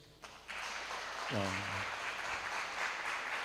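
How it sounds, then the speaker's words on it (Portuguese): A crowd breaks into sustained applause, steady and fairly loud, with a voice briefly rising over the clapping. "merece uma salva de palmas"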